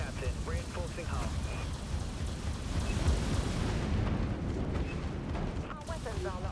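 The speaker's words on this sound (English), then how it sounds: "Broadside batteries, fire." Broadside batteries on a warship firing in the Dreadnought team deathmatch game, a rumbling barrage of booming blasts mixed with crackling impacts, with a voice speaking over it.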